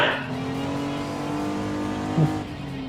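A 1965 Mini Cooper S in the Gran Turismo 7 racing game holds a steady, buzzing engine drone at speed, close and loud, with a brief tyre chirp near the end.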